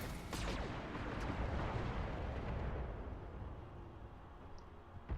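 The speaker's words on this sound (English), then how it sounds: "Bring the machine guns to bear even here." Mech weapons, machine guns among them, firing in the BattleTech video game: a dense, continuous roar of overlapping bursts and booms that stays loud, eases slightly near the end, then ends on a sharp pop.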